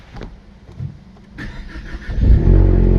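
A Ford Mustang engine cranks briefly in a garage, then catches and settles into a loud, steady idle rumble, heard up close with no talking.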